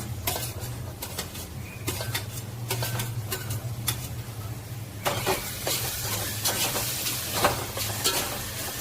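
Finely chopped tomatoes frying in a pan over golden-browned onions, a steady sizzle under repeated close scrapes and clinks of a spatula stirring, growing busier and brighter partway through, with a low hum beneath.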